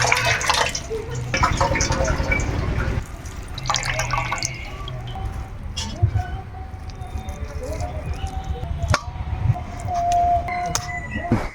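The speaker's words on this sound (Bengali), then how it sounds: "আমরা কিন্তু চিপি মানে পুরা জলটাই একদম বার করে দিব" Water is squeezed and strained out of grated ash gourd, dripping and splashing in irregular spurts close by, with a voice talking faintly in the background.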